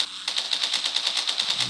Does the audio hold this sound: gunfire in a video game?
yes